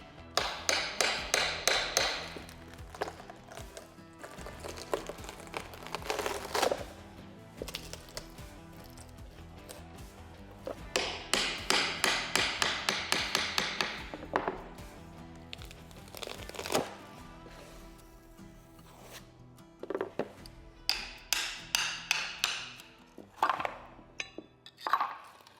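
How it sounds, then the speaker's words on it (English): Glued wood floor adhesive samples being pried up from a subfloor with a pry bar, giving repeated bursts of crackling, scraping and tapping in several separate rounds with short pauses between them, close by and with no talk. "I'm gonna pry up each of the samples with a pry bar."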